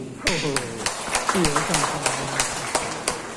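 Applause from an audience at a talk in a temple hall, heard as a run of sharp claps under a speaking voice that carries on over them.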